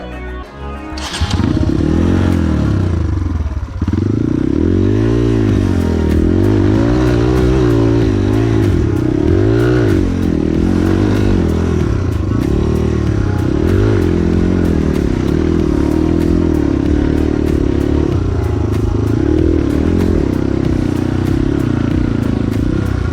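A trail motorcycle labours along a Merapi dirt track, its engine loud and close, revving and droning in rising and falling surges for the whole stretch.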